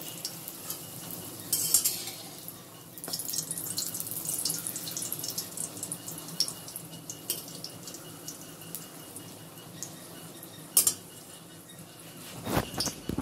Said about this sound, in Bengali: লুচি ভাজা হচ্ছে দেখো।